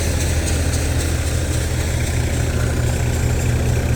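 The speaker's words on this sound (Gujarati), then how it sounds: "ટ્રેક્ટરના આરપીએમ 1200 છે।" A tractor engine at 1200 RPM drives a Param basket-model thresher in soybean, giving a steady, loud low-pitched idle-like rumble with constant vibration throughout.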